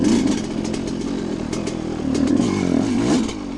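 Dirt bike engine running close by, a steady buzzing drone with slight surges in revs throughout.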